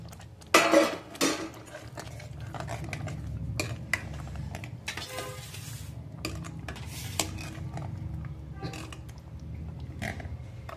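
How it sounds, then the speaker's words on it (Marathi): Paneer being added to a cashew paneer masala curry and stirred in a pan, with a few clanks of spoon against the pan early on, then softer scraping and stirring over a steady low background hum, no voices. "आता इथे आपण पनीर घालून घेणार आहोत।"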